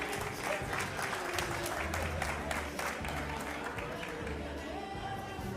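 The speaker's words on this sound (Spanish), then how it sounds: "fuerte los aplausos" At a festive gathering in a Hungarian society hall, a crowd applauds a raffle winner with steady, fairly distant clapping over low background music, lasting several seconds.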